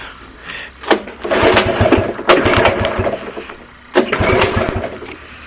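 A 1983 Honda ATC 70 engine, cold after sitting for over ten years with the choke on, sputters and revs in short loud bursts between pull-start attempts, nearby and with no talk.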